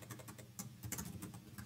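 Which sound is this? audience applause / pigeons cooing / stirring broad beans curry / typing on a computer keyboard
typing on a computer keyboard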